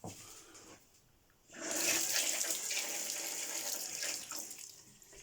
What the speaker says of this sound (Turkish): Sularımız akıyor.